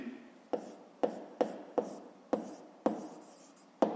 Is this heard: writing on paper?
yes